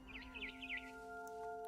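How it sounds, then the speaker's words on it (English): Several quick, warbling bird chirps sound outside a window in the video game What Remains of Edith Finch, fairly close, over steady sustained tones, then the chirping stops. "Then I heard chirping outside my window."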